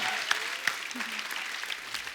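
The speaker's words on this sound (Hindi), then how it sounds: "जोरदार तालियां" Audience applause at a TV comedy talk show studio, a steady broadband wash of clapping with a few sharper claps, moderately loud throughout.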